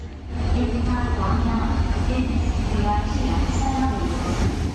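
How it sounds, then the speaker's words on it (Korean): An ITX-Saemaeul train at Daejeon Station, a continuous loud rumble of rolling rail cars with faint wheel squeals and scattered voices in the background. "저는 이곳 대전역에서 8시 4분차 ITX 새마을호를 탑승하였습니다."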